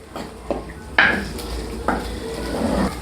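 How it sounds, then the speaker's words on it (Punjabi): Finely chopped onions sautéed after cumin in a pan for street-style pav bhaji, a continuous sizzle broken by several sharp scrapes and clinks of a spoon against the pan, close and fairly loud. "ਪਿਆਜ਼ ਪਾ ਕੇ ਵੀ ਅਸੀਂ ਅੱਛੀ ਤਰ੍ਹਾਂ ਪਿਆਜ਼ਾਂ ਨੂੰ ਪਹਿਲਾਂ ਭੁੰਨ ਲਵਾਂਗੇ"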